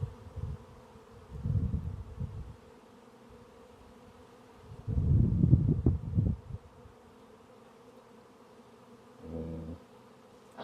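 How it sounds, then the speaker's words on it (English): A swarm of honey bees is shaken loose and sent airborne, bursts of loud rushing buzz rising and fading in waves with quieter humming gaps between them. "So I'm going to try to shake these. I'm just going to get these bees airborne."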